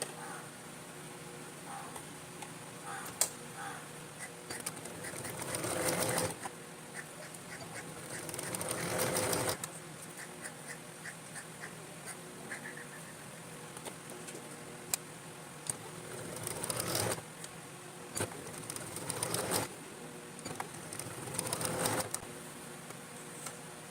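Sewing machine stitching a namaz chadar along both sides from the centre, heard in short bursts of rapid needle clatter separated by quieter pauses, no talking.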